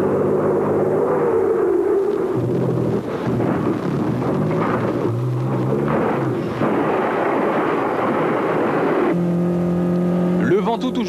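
A vintage Aston Martin racing on the Tour Auto Historique, its engine roaring close and loud with shifting revs and rasping bursts, mixed with crowd and road ambience.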